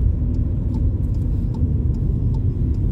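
A car drives along the ring road coming in from the Kyiv side, its steady low engine and road rumble filling the cabin at a constant, close level with no talk.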